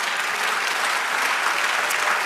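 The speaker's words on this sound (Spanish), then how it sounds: "Dale un aplauso al Señor." An audience in a Spanish-language church service claps in a dense, continuous burst of applause, loud and close, without any voices rising above it.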